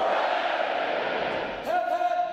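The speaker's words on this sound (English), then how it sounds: "The adjutant will lead all graduating divisions in 3 cheers for this morning's award winners." Navy recruits at a graduation ceremony roar together in a cheer, a massed crowd shout swelling and then breaking into a sharper second yell, loud and reverberant.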